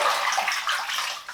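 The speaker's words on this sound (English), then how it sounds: "Get the soap off the hands." Running water splashes steadily over soapy hands as they are rinsed in a sink, a continuous close hiss of flow and splatter with no talk.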